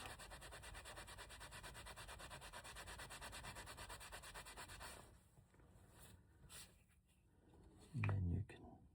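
A leather mini wallet is wiped down with a t-shirt to remove excess neatsfoot oil. Soft, steady rubbing runs for about five seconds, followed by quieter scattered handling noises and one brief louder bump near the end.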